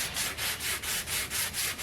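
Rhythmic hand sanding of a replica sword with 220-grit sandpaper, even strokes repeating about every quarter second, close and steady with no voices.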